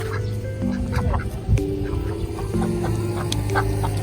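Several geese honk and cackle over a steady background hum on a trekking trail in Sapa, Vietnam, overlapping calls coming in scattered bursts.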